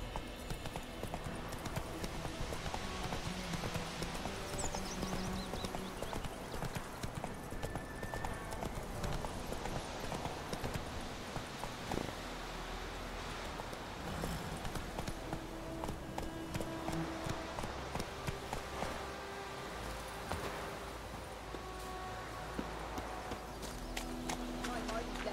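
Roach the horse gallops in The Witcher 3: Wild Hunt, rapid hoofbeats clopping steadily beneath game music and ambience, with a voice speaking at points.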